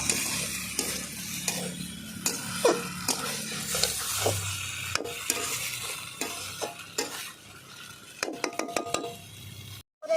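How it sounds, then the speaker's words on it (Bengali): Jackfruit and prawns frying with spices in a pan, a steady sizzle broken by repeated scrapes and clinks of a stirring spoon against the metal, close and moderately loud with no voices. "আমি দু থেকে তিন মিনিট ভালো করে মশলার সঙ্গে কিছুর কষিয়ে নেব"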